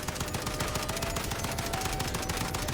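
FAL rifle firing in Call of Duty multiplayer, a dense, continuous automatic burst of rapid shots running unbroken for the whole stretch, loud and close.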